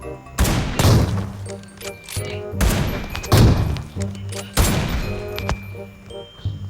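Repeated bursts of gunfire with heavy booms in PUBG Mobile, several loud volleys spaced a second or so apart, with some speech mixed in.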